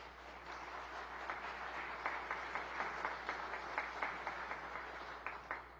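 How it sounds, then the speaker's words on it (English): An audience claps during Michigan Governor Whitmer's State of the State address, a faint, thin patter of scattered hands that stays steady for several seconds in a large hall without building to full applause. "some claps over here"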